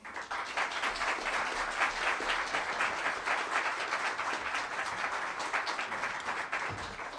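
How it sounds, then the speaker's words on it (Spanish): Steady, fairly distant audience applause welcoming a speaker to the stage at a formal event, continuous clapping from a crowd that holds an even level throughout. "les pido un fuerte aplauso para recibir a don Justo"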